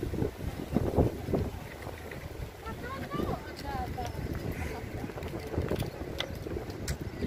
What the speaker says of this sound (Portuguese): Aqui ó, está ventando muito